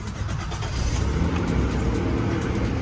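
A small Honda Squash moped scooter engine runs at a steady, low idle, a soft continuous motor rumble with a faint mechanical hum. It stays even and unbroken throughout, with no voices.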